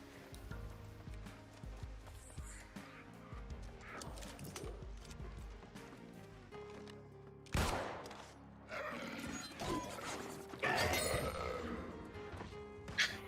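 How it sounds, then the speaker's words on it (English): Scattered gunshots ring out in the New World online game as players fire at a rabbit, with sharp isolated reports and louder bursts in the second half over a background of game sounds. "They're just shooting the rabbit."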